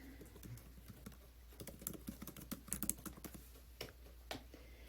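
Typing on a computer keyboard while filling in an email address field, irregular bursts of close, clicky keystrokes with short pauses, no talking.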